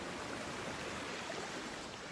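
A woodland creek flowing steadily near a waterfall, a constant broadband rush of running water, close and even throughout, with no voices.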